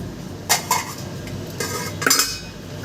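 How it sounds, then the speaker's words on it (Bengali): Mixed vegetables for shukto are sautéed in a pan, with a spoon scraping and clinking against the metal in a few short bursts over a low background hiss. "সমস্ত সবজি দিয়ে আমি একটু কষিয়ে নেবো"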